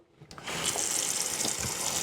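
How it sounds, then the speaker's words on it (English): Warm tap water runs and splashes into a sink for about two seconds while a teeth-whitening mouthpiece is rinsed, a steady close gush with no talking. "now this can be rinsed with warm water around."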